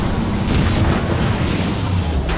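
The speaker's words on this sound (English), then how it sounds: "The core's about to detonate!" A ship's reactor core blowing apart in Transformers: War for Cybertron: a sustained, loud low rumbling blast with crackling debris, rolling continuously with no clear break.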